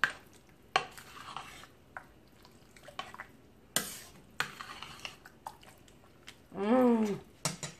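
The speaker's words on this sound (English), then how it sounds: "Alright, so we're gonna give this a stir." A spoon stirs chili with kidney beans in a pot, giving scattered clanks, scrapes and wet sloshing knocks at uneven intervals, close and fairly loud, ending in a brief squeaky scrape.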